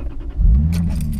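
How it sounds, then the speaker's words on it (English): A Lexus IS300 with a manual gearbox cranks and fires up while sitting in neutral, a brief rattle followed by a deep engine catch and settling idle, close and fairly loud. "Push the clutch pedal in, and then start the car."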